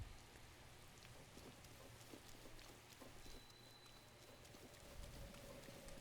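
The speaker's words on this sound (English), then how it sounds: "It's raining, but it's not thunderstorming" Steady rainfall in Zelda: Breath of the Wild patters as a soft, continuous hiss, quiet and even throughout, with no thunder.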